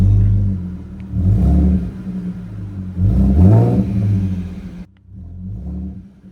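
A 2015 Ford Mustang with a 3.7-litre 224 kW V6 revs up twice from idle, each rev swelling into a deep throaty roar before falling back to a steady low rumble, close and loud.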